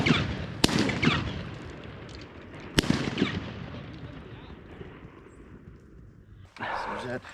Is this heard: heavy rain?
no